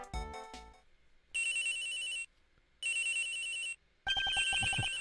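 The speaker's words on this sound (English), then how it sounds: "Whoops! Excuse me, phone call." Telephone ringing in the Ace Attorney Investigations video game comes as electronic bursts: a short jingle, then two steady rings separated by pauses and a final chime, all clear and close.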